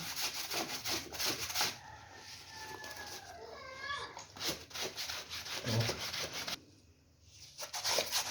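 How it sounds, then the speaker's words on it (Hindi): A clothes brush is stroked over a coat during hand dry cleaning, giving repeated close, scratchy rubbing strokes with brief pauses and a short quiet gap. "पूरे कोट पे आप अच्छे तरीके से ये ब्रश मार लें।"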